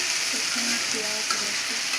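Onion, garlic, and dried and green chillies fry in mustard oil with a steady, dense sizzle, with occasional stirring scrapes and small pops on top. No one speaks.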